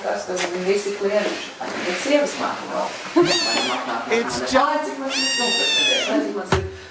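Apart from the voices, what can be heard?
Munchkin kitten meowing in a played video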